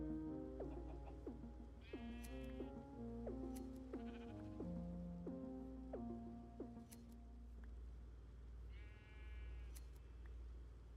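Sheep in the Minecraft video game bleat repeatedly, a series of short wavering baas at varying pitches spaced a second or two apart over a low steady background hum, with no talking.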